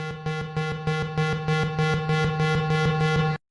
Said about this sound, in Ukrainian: Сигнал радіаційної небезпеки.